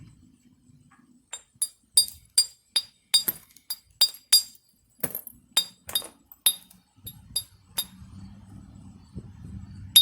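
Bright glassy tings ring out in a steady series of sharp taps as a glass bottle bottom is knapped, close and crisp, with a low hum at the start and end and no speech.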